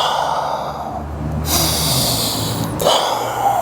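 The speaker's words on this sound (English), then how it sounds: "take a couple big breaths in that bottom position" Big, deep breaths taken during a mobility stretch, heard as close, breathy inhales and exhales with snort-like airy bursts, loud against the microphone and without speech.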